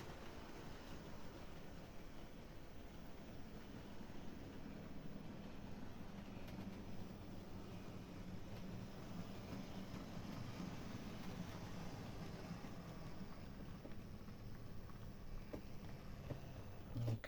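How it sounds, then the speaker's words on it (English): A model railway locomotive, a Dutch-liveried conversion built on a donor chassis, runs steadily around the track with a continuous low rumble and faint whirring, holding a constant level with no talk. "I'll explain more about the Loco in a second as it comes around."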